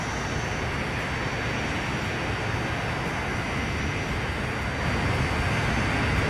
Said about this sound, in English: I think this is our first jet engine.